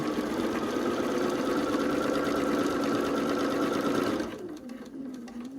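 A sewing machine stitches quilt pieces with a rapid, steady mechanical whir and needle chatter that runs at a constant pace, then stops abruptly near the end, leaving a quieter hum.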